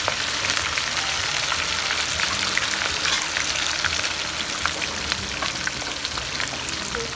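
Chicken pieces shallow-frying in hot oil for a Lahori chargha-style roast, giving a dense, continuous crackling sizzle with scattered pops, close and steady throughout.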